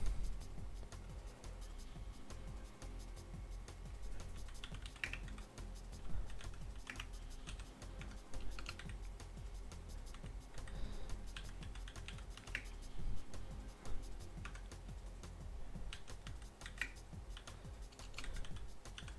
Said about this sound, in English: Can you hear the keyboard?